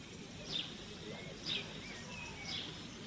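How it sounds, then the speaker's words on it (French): Faint bird chirps repeat about once a second, three short calls in all, set against a steady low background hush in a park around an old château in the morning. "Depuis des siècles, on n'y entendait que le gazouillis des oiseaux le matin."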